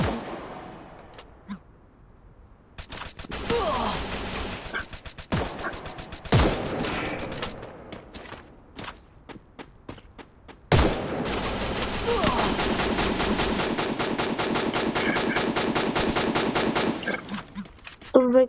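Gunfire in the video game Free Fire: scattered single shots, then long rapid automatic bursts that run steadily for several seconds, loud and close, with brief pauses between volleys.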